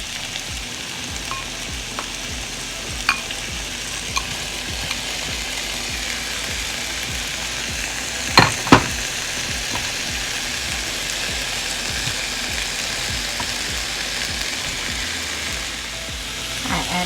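Thawed butternut squash sizzles steadily in a hot pan, a constant close frying hiss with a few sharp clacks of stirring near the middle.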